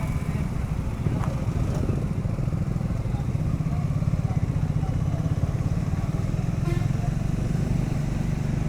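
Motorcycle cruising on a highway during a long bike trip from Delhi toward Srinagar, a continuous close engine rumble with rapid rhythmic pulsing and wind noise, steady throughout.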